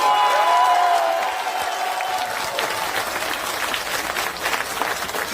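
Audience at a political party gathering for newly elected members breaks into loud applause and cheering after a brief spoken line, the clapping dense and steady until the end.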